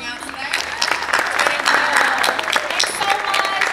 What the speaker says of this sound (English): we'd just like to thank another round of applause for Yaya Han for coming out today